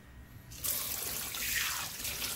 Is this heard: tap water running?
yes